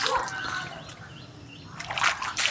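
Rainwater flowing on a flat house rooftop, a trickling, splashing wash with brighter splatters at the start and end and a softer, quieter stretch in between.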